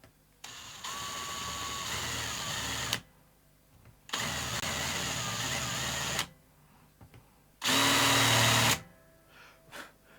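A power drill fitted with a cheap drill bit runs in three bursts of a few seconds each, a loud whining buzz with short quiet gaps between, during guitar-building work.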